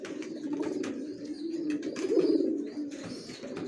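Young racer pigeons, grizzle birds just reaching adulthood, coo softly in a low, rolling murmur that swells and fades, with a fuller burst in the middle and faint chirps alongside.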